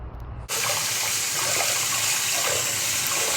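Running water gushes steadily from a tap over freshly picked young lemon tree leaves, starting abruptly and continuing as a close, even wash.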